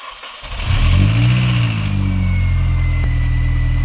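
Engine of a cheap supercharged Mini starts and revs up, then settles into a steady running idle after repair work, loud and close with a constant low rumble and no speech.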